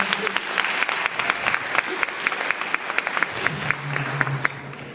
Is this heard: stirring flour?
no